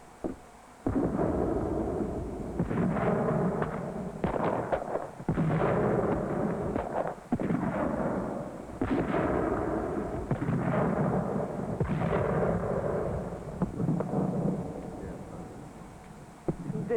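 Cannon bombardment of an eighteenth-century fort under siege: repeated heavy booms land every second or two, each followed by a rumbling roll, continuing steadily for the whole stretch.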